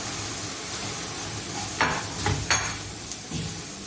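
Kunafa dough is stirred through melted ghee in a pan, giving a steady soft sizzle broken by a few scraping stirs and light clinks, close and without talk.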